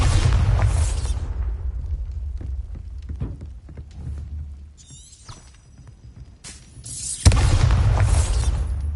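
The Bombarda blasting spell goes off in heavy booming explosions, with one deep blast at the start and a second loud burst near the end, separated by rumbling debris and scattered clatter.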